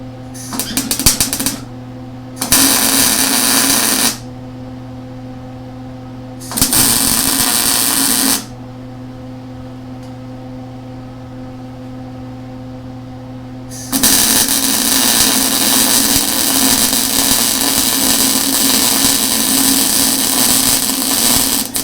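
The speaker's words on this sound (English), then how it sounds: "I'm going to run a bead down through here." A Lincoln Electric Handy Mig welder gives short bursts of loud, steady crackling buzz while tacking and running a weld bead, finishing with one long continuous stretch over a constant hum.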